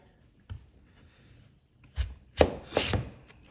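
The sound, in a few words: chef knife cutting sweet potato on board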